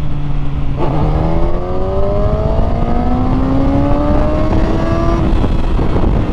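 A Kawasaki ZX6R Ninja motorcycle pulls away and accelerates, its engine note climbing through a long, smooth rise with a sharp shift partway through, loud and close throughout.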